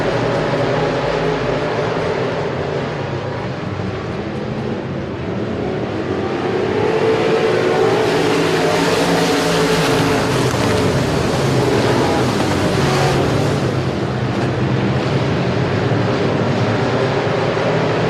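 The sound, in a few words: modified race cars racing at Sabine Speedway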